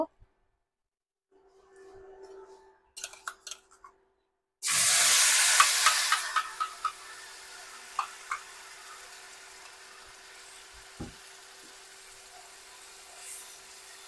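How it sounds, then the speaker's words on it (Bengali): Spice paste hitting hot oil left over from frying eggs for a coconut egg curry, bursting into a loud hiss and sizzle after a few quiet clinks, then settling into a steady fry with occasional scrapes of stirring. "এই তেলের মধ্যেই আমি মশলাটা কষিয়ে নেব।"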